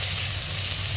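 Chopped onion and chili sizzle loudly and steadily in a hot pan of fish curry at a street food stall, a dense continuous hiss with no pauses.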